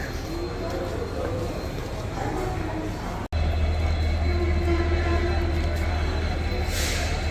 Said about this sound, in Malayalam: അങ്ങനെ റെയിൽവേ സ്റ്റേഷനിലെത്തി